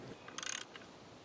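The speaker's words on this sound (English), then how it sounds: "Rotate the nut to the left to loosen." A wrench ratchets on the 3/4 size blade nut of a lawn edger, a short burst of about eight quick clicks heard close and fairly quiet, alone.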